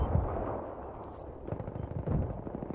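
Rapid gunfire crackles in a Battlefield 3 match on Kharg Island, a dense burst of shots that swells and dips through the short stretch with no talk over it.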